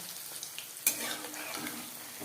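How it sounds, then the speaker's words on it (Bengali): Fish pakoras frying in hot oil over a medium flame produce a soft, steady sizzle, broken by a sharp utensil clink and stirring scrape around the middle. "পকোড়া ভাজবো"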